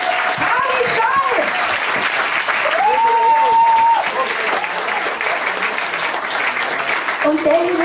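Applause for a bassist at the one and only concert of a band, a dense steady wash of clapping lasting several seconds, with voices calling and talking over it.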